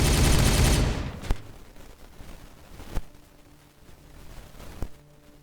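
Gunfire in the video game Warhammer 40K Regicide: a dense burst of shooting at the start gives way to three sharp single shots spaced a couple of seconds apart over a quieter background.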